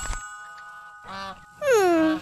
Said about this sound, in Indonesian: Angsa tu terlepaslah tu.